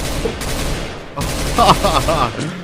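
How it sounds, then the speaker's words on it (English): Gunfire from the release-era version of CS:GO, with guns such as the Galil: rapid automatic bursts rattle continuously, briefly drop out near the middle, then return as crisp, close, repeated shots. "at one point the Galil had a red dot sight, and the guns sounded like this."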